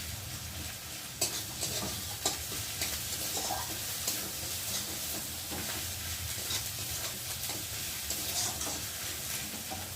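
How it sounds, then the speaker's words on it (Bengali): Garlic sizzles steadily in hot oil in a pan for a bhola fish and potato curry, a continuous crackling fry broken by occasional scraping stir strokes, close and fairly quiet. "একটু রসুনটা ভাজতে হবে, যতক্ষণ না কাঁচা একটা রসুনের গন্ধ যাবে ততক্ষণ ভাজতে হবে"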